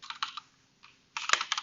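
Someone types a password on a computer keyboard nearby, quick bursts of light clicky keystrokes split by a short pause, fairly quiet, with no talking.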